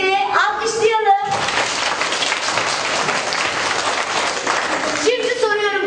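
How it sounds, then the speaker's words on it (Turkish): A classroom of children bursts into loud, sustained applause lasting several seconds, with an adult voice speaking briefly just before and just after the clapping. "Alkışlayalım."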